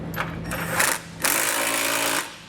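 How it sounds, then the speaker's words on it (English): Hex nut on a trailer hitch receiver being run down on a 2014 Lincoln MKX with a power socket tool, two short bursts of loud, close buzzing whir separated by a brief pause. "come back with their socket and snug it up"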